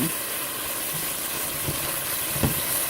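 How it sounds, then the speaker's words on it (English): A steady, loud sizzling hiss as beef stew liquid cooks down in a pot, filling the whole stretch, with a few soft pops and bubbling thumps underneath. "when you hear that loud sizzling, you want to make sure you're in here watching it"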